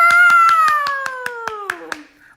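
Hands clap at a children's live story time, with about nine steady evenly spaced claps running under a sustained high sung voice that fades out.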